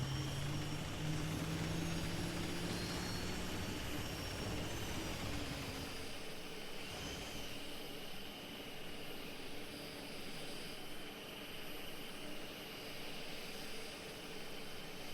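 A Warden vehicle engine in Foxhole drones with a thin, high supercharger whine. The tone is steady and fairly quiet, and its pitch shifts slightly as the engine note changes partway through.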